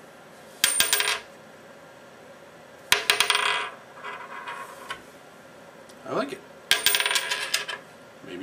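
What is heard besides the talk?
coin spinning on table, flicked with one hand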